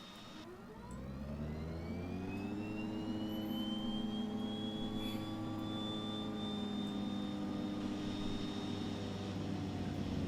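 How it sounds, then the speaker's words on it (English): A DHC-6-300 Twin Otter turboprop engine spools up from start in Prepar3D, a rising whine with climbing tonal harmonics settling into a steady loud drone that holds for about ten seconds, with no talking. "So let's go and get the engine started."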